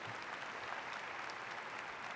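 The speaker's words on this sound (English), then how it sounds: "Round of applause for Dean Daly." Steady applause from an audience at a USC School of Cinematic Arts award ceremony, an even wash of many hands clapping throughout a short moment.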